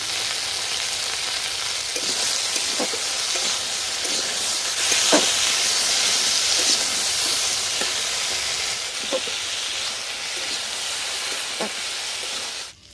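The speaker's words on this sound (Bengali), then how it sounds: "এবার গাটি কচুগুলোকেও ভেজে নেব। একটুখানি লবণ দিয়ে দেব, একটুখানি হলুদ দিয়ে দেব।" Gati kochu, a taro, frying in oil with salt and turmeric, giving a continuous loud hissing sizzle for the whole stretch, with occasional soft clicks and stirs, then a quick drop at the end.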